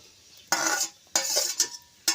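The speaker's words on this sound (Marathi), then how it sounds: "आणि हा चांगला परतून द्यायचा आहे आणि कढईमध्ये कांदा टाकून घेतला" Chopped onion is stirred in an iron kadhai over a wood-fired clay stove; three sharp, scraping metallic strokes come at irregular intervals over a quiet background, with no talking.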